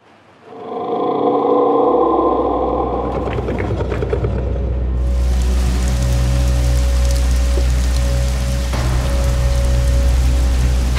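Rain falling on a late night, a dense continuous hiss that swells in after a quiet start and holds steady beneath a low rumble and a faint sustained tone.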